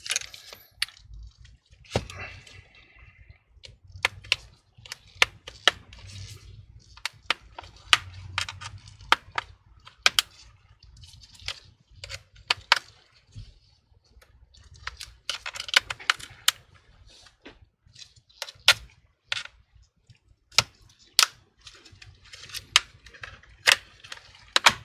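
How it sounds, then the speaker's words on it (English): Plastic clips on the back cover of a Samsung NP950QED laptop snap and click in irregular, sharp bursts as the cover is pried off with a tool near a metal bracket, quiet and close with no voices. "the entire back cover would just come right off, and you're gonna hear a little bit clicking noise"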